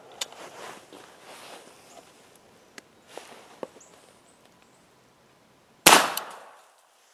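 A single-shot .357 Magnum rifle fires one loud, sharp report near the end, ringing briefly after a few quiet handling clicks and soft shuffling.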